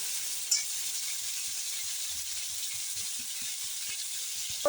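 New potatoes frying in a pan, a quiet steady sizzle with soft intermittent stirring knocks and scrapes, a small clank near the start and a louder knock at the end, no talk.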